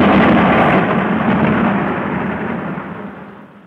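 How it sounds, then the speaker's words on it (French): A loud thunderclap used as a sound effect in a narrated French story, a broad rumbling roar that starts at full strength and slowly rolls away and fades. "puis un coup de tonnerre roulant des blocs gigantesques sur le toit des nuages"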